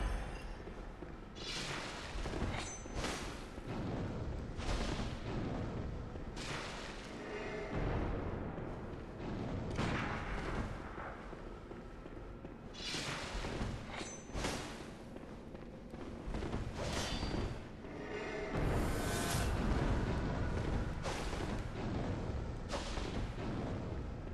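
Enemy gunfire in a video game: dense, continuous bursts of loud shots and booming blasts repeat for over twenty seconds with no pauses, filling the whole stretch with no talk.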